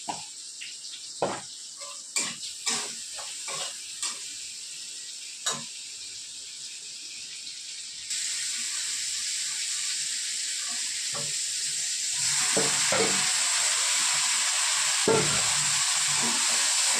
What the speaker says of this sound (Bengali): এর মধ্যে টমেটো দিয়ে দিলাম তেলের মধ্যে, তাড়াতাড়ি করে মজে যাবে।